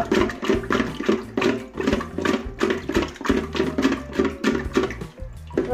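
A household toilet that keeps clogging is flushed, giving a rushing, gurgling water sound that surges and ebbs in rhythmic waves close by.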